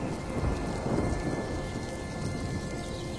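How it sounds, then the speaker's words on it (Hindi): Heavy cartoon rain pours steadily outside at night, a dense, continuous hiss with low rolling thunder rumbling through it and no voices. "बाहर मौसम खराब होने की वजह से तेज बारिश शुरू हो गई।"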